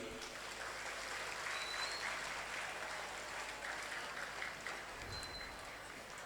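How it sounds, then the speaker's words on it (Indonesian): Sustained applause from a crowd at the inauguration of a seven-storey hospital building, steady and dense throughout with faint background voices. "Tepuk tangan untuk Bu Hanik"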